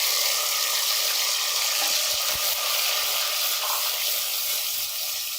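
Garlic frying in a pan along with onions for a methi aloo sabzi, giving a steady, loud, close hiss of sizzling oil throughout, with a few faint stirring knocks and no talking.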